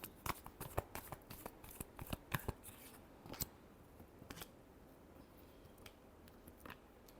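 Tarot cards being shuffled close up give a rapid series of crisp flicks and riffles, busiest early on and then thinning to scattered taps over a quiet background.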